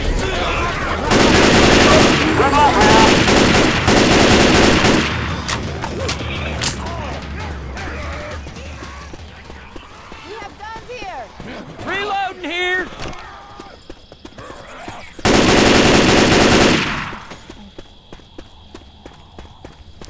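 Loud bursts of rapid gunfire in Left 4 Dead 2, including a Desert Eagle pistol, come in two heavy volleys separated by quieter stretches of game noise, with players talking over the action.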